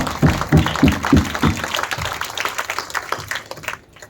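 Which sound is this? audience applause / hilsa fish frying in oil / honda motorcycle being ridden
audience applause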